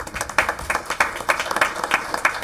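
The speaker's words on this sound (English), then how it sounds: "Let's give them a round of applause." An audience at a school board meeting claps steadily in a quick, even patter for a couple of seconds, with moderate loudness and no voices over it.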